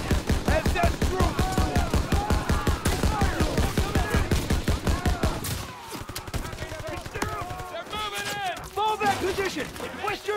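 Rapid bursts of automatic gunfire from a World War II Call of Duty battle, loud and steady for about five seconds, then sparser shots and battle noise under shouted voices.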